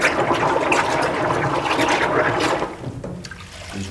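A metal gearset is swished back and forth in a bath of cleaning solvent, giving a continuous close sloshing and splashing of liquid that eases off toward the end.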